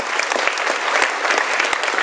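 A seminar audience at a business presentation bursts into loud, sustained applause, many hands clapping densely and close, with a few sharp low thumps scattered through the wash.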